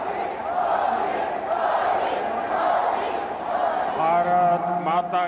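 A dense crowd at a public meeting in Bhuj cheers and applauds to welcome PM Narendra Modi, a loud, continuous roar of voices that swells toward the end, with chanting rising over it.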